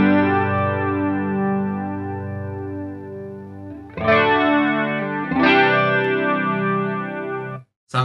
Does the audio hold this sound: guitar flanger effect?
yes